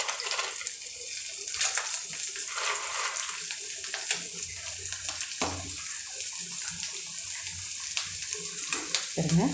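Leftover rice vadagam crackles and bubbles in hot oil, a steady sizzling froth with scattered pops over about ten seconds, close and moderately loud, with no talking.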